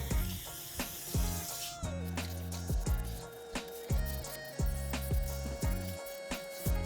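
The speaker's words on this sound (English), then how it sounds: "so we're just gonna clean it up with some brake cleaner" Brake cleaner sprayed onto a Volkswagen MK7 GLI brake rotor coated in anti-seize: repeated short hissing bursts with dripping and wet spattering, close up, pulsing in an uneven rhythm without talk.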